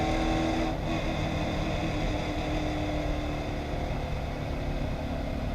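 Race car engine at full throttle coming to the checkered flag on the last lap, a steady loud roar that holds constant throughout without pause or talk.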